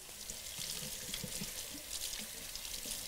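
Tap water runs steadily over dirty leeks being rinsed in a kitchen sink, a constant close hiss and splash with slight irregular patter as the stream hits the vegetables.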